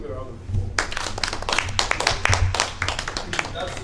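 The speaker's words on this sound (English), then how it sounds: "Can we give you a round of applause?" Audience at a round table event giving a round of applause, rapid crisp clapping close by that continues steadily, with voices underneath.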